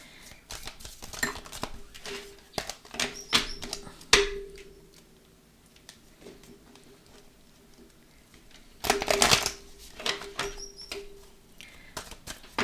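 Oracle cards are shuffled and handled, a scattered series of soft, close papery flicks and taps that clusters into denser bursts with quiet gaps between them.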